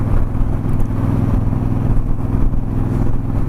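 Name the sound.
motorcycle riding nearby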